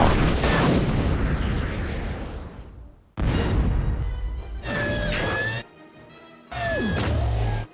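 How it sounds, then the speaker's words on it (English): Explosive shell blasts from an Omega plasma battery defense turret in the Total Annihilation TAUCP mod, several loud booming bursts separated by short gaps, with a crackling rumble trailing each impact. "The last defense we built was the smaller Omega plasma battery. It doesn't have a very large range, but at least it managed to shoot a shell."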